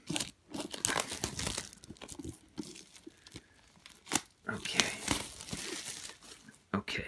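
Scissors cut open the plastic wrapping of a Pokemon Generations Elite Trainer Box, making close, busy crinkling and tearing of plastic film in irregular bursts.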